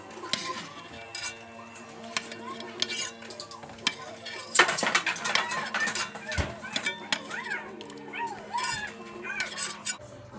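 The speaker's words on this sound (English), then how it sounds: "Make sure I use my slotted spoon so I keep all the liquid I can." A slotted spoon scrapes and clinks against a pan while lifting cooked shrimp out for a seafood gratin, metallic clatter coming in quick irregular bursts with a louder cluster midway and a voice talking in the kitchen.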